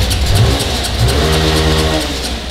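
Several motorcycle engines fire up and rev together, a close, loud burst of throaty revving that rises and falls in quick pulses and then settles into a rumbling idle.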